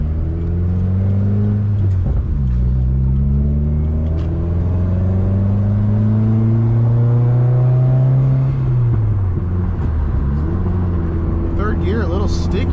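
A 2015 Subaru WRX with a tuned FA20DIT turbo engine pulls through the gears, its engine note rising in sweeps with a brief dip at a shift, recorded from inside the car under a steady road rumble.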